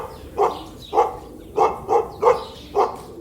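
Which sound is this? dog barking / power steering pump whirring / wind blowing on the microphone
dog barking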